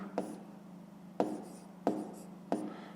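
A pen writes a number on paper during a fifth-grade math exercise, giving four short, quiet scratching strokes against a steady low hum.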